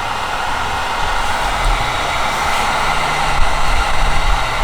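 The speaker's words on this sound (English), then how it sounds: "We're gonna see if it'll run the heat gun. Should I go full blast" A heat gun roars steadily at full blast, powered from a Jackery portable power station, a dense continuous rushing blow with a low rumble underneath, close and loud throughout with no talking.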